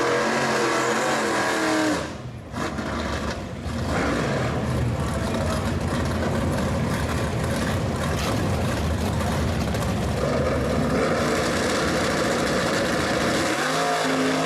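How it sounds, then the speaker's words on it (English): A Ford Mustang Shelby engine, loud and close, roaring steadily with a brief dip early on and revving again near the end, with no talk over it. "Oh, there's a Mustang. That's a Shelby."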